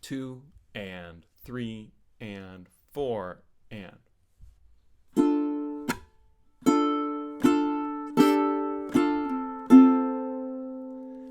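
Ukulele strumming the eleventh measure of a song, an F-shape chord passage with an up strum; after a voice counts the beats, six ringing, evenly spaced strums follow, close and clear.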